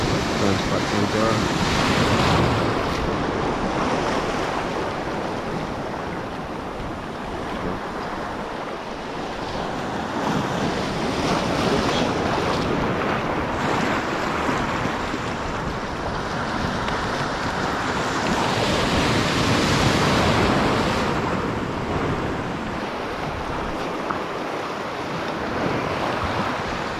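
Ocean waves roll and surge in a continuous, close, loud roar, mixed with heavy wind rumbling against the microphone from a boat at sea.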